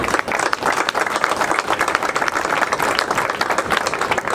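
Crowd applause at the opening and blessing of the fishing waters during the Fisherman's Feast, loud, close and continuous clapping with sharp individual claps standing out, no talk over it.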